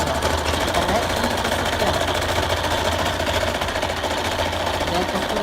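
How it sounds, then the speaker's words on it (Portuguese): A sewing machine runs a second seam along the presser foot on a patchwork table runner, a steady close mechanical hum and chatter continuing throughout. "Agora eu vou passar uma segunda costura no pé da máquina"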